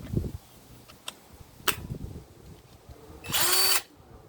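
Cordless 24-volt mini chainsaw with a 4-inch bar, a few handling clicks and knocks, then a short loud whining burst of the motor revving for about half a second before cutting off.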